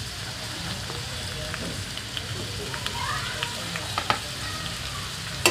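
Onions and green chillies sizzle in a little hot oil with a steady, even crackle up close, with a few faint spoon taps and a sharper knock at the very end.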